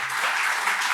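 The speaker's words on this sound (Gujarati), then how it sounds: "પણ એક જોરદાર તાળીઓ થાય" An audience claps hard and steadily at a Gujarati talk, a dense, even burst of applause lasting about a second with no voices over it.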